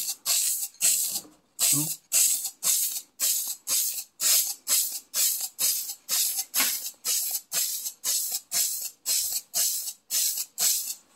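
Repeated short hissing bursts of test sprays from a paint gun on a 1967 GTO in cold weather, close and loud, in a steady rhythm of about two per second with brief gaps between.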